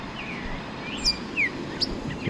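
Several birds chirp and tweet in short, bright calls in a wildflower park in Port of Spain, Trinidad, over a soft outdoor background hum.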